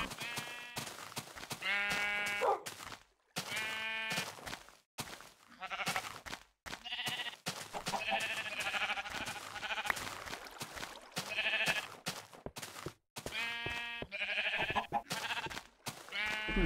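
Sheep in Minecraft bleating repeatedly, a string of clear wavering bleats spread across about seventeen seconds, some overlapping, fairly close and prominent with short silent gaps between them.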